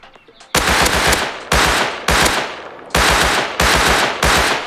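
Loud automatic gunfire in the survival game Rust arrives in repeated bursts, each a rapid rattle of close shots separated by brief pauses, with no voices over it.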